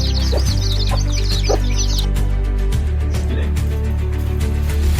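A rooster clucks in quick bursts for the first couple of seconds, then a steady low hum carries on with a few scattered, fainter calls and faint murmuring in the background.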